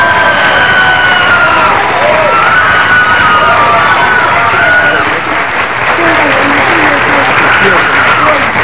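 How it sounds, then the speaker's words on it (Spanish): A live comedy show audience claps and cheers loudly to welcome a comedian onstage, a steady dense roar of hands with shouts and whoops mixed in, close and continuous. "Muy fuerte el aplauso"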